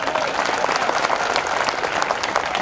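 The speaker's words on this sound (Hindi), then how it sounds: "ताली बजाओ ढंग से उनके नाम पर।" Audience applauding steadily at a public gathering for a torch march, a dense, even patter of many hands clapping throughout without pause.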